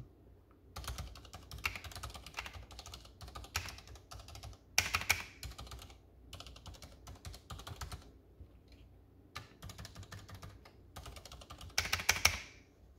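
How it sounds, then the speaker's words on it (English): Bursts of typing on a Ducky One 2 TKL mechanical keyboard with Cherry MX Silent Red switches, soft muffled keystrokes in quick runs separated by short pauses, close and fairly loud, with no talking. "that's what the Cherry MX Silent Reds sound like on this keyboard specifically"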